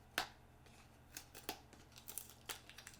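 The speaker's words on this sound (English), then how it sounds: "I should use some scissors or something." Sharp crinkles and snips of scissors cutting a hardware wallet's packaging, a few distinct clicks spread over a few seconds against quiet background.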